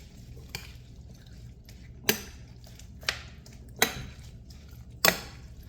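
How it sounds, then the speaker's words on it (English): A spoon stirs orzo and vegetable broth in a pan, producing a few sharp, spaced clinks and scrapes against the pan with quiet pauses between them. "And then you're just gonna kind of stir everything up."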